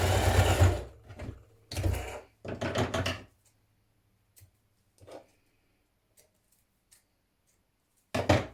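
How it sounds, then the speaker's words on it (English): A sewing machine sews a straight stitch across the top of a knit dress piece in short, close bursts separated by quiet pauses, with faint taps between runs. "I'm going to stitch across the top of it with a machine stitch"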